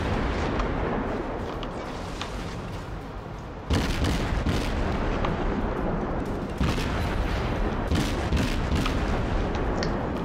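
Warship guns fire in the video game World of Warships, a dense rumbling barrage of booms with loud sudden salvos cutting in over the continuous roar.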